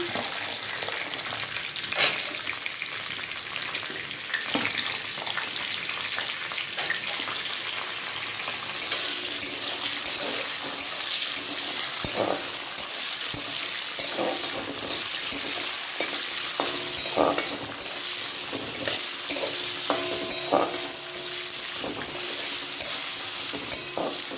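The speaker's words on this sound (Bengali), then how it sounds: "এইবার বিনসটা ভাজছি" Beans fry in a pan for a mixed vegetable paneer dish, a steady close sizzle running throughout with intermittent scraping and clinking of stirring, no talking.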